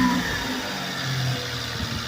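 A Toyota 4Runner with a swapped-in 3.4 engine idles high, near 2,000 RPM, giving a steady, close, continuous engine drone with no speech over it.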